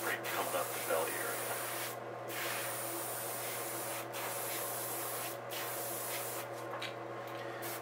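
An airbrush sprays white paint onto a walleye crankbait lure. It gives a steady close hiss that runs almost without a break, with brief dips where the spray pauses.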